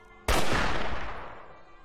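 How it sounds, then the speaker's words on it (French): A single loud sniper rifle shot in Vampire: The Masquerade – Bloodlines cracks sharply out of near silence and trails off in a long, ringing decay, with no voices present. "le mec il a un fusil de sniper"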